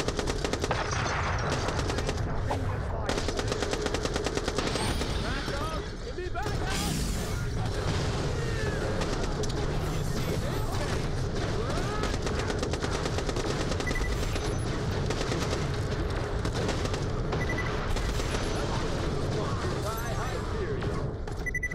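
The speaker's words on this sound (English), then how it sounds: "I'm shooting these people like I'm gaining points as I go along" Rapid gunfire from the shooter game Borderlands: The Pre-Sequel, dense automatic bursts and booming shots running almost nonstop, mixed with mechanical game effects and someone talking over the action.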